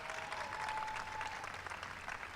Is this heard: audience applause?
yes